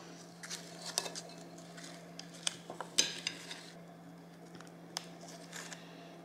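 Spoons tap and clink lightly against dishes while cookie cups are filled for Cadbury birds nest cookies, in scattered soft knocks close by, with a steady low hum in the background.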